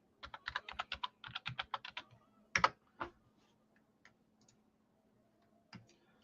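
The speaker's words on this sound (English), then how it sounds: "I got to type in that search over there." Rapid bursts of keystrokes on a computer keyboard, typed into a search box, with a few louder isolated clicks after the flurry and then near silence with one last click.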